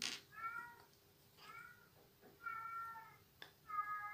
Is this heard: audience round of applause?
no